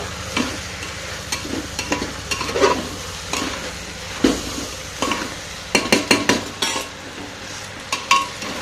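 Vegetables fry in a pan in a home kitchen while a utensil stirs them, giving a soft sizzle beneath repeated scraping and clinking knocks against the pan at an irregular rhythm.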